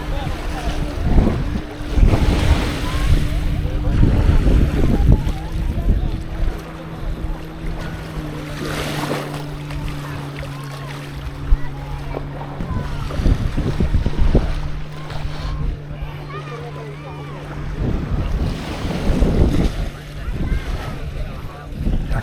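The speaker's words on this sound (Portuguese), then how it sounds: "Olha esse barulho dos jet skis." Jet skis run near a beach in Florianópolis, Brazil, with a steady engine drone rising and falling over the wash of waves and wind buffeting the microphone.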